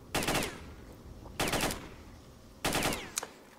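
Bursts of automatic rifle fire crack out in STALKER: Shadow of Chernobyl as bandits shoot in the game world, three distinct bursts spaced about a second apart, each a rapid string of shots, moderately loud with no talking.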